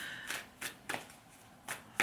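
Oracle cards are shuffled by hand for a reading, giving about six quick riffling bursts spaced at a steady rhythm, close and clear with a quiet room between them and no talking.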